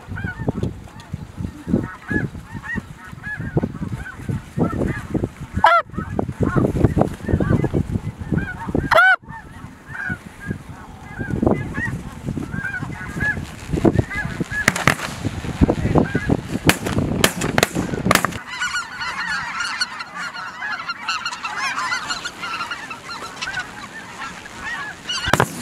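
A large flock of snow geese honks continuously overhead during a spring hunt, a dense, loud chorus of overlapping calls with a few sharp bangs standing out partway through.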